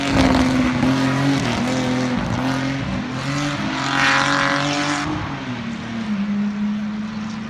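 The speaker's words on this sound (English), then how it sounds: "BMW 3-litre SI from 1972. He's driving solo." A 1972 BMW 3.0 SI production saloon race car drives on the Silverstone circuit, its engine note loud and continuous as it runs past, with pitch rising and falling through gear changes, and no talk.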